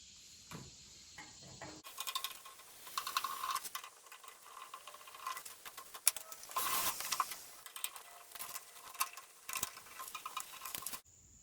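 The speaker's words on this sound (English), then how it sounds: "we're going to remove these two screws and loosen this screw, and then repeat it on the other side" Screws being removed and loosened with a hand tool during assembly of a Cuisinart A5 four-burner gas grill: close, quiet ratcheting clicks and metallic rattles in irregular bursts.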